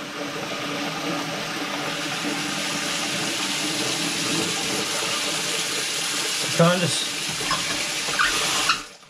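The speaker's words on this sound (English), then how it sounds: "I don't know why I have the water running." Bathroom tap water runs steadily and fairly loud the whole time while a person talks over it, with a short clatter and splash near the end.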